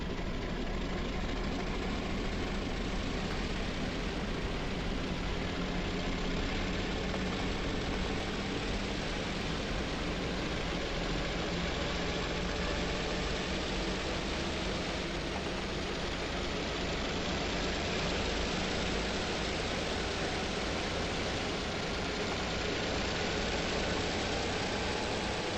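EMD E8A diesel locomotive in Train Simulator Classic running in notch 8, a steady, loud, dense engine roar with broadband exhaust noise that holds unbroken for the whole stretch, with no talking.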